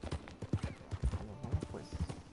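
A horse's hooves clip-clop at a walk in Red Dead Redemption Online, a steady rhythm of close, distinct thuds throughout.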